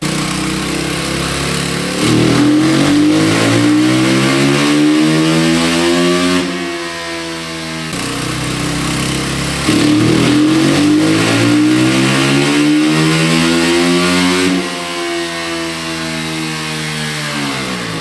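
A factory-modified 2021 Honda CRF450 Works Edition motorcycle revs on a dyno in two long, loud pulls, its pitch climbing to a screaming peak before dropping back to idle each time.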